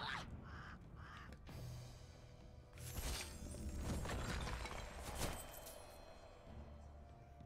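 A bird unit is sent into battle in the Xbox One strategy game Wartile, with crow-like caws and flapping over game effects and background music, moderately loud throughout.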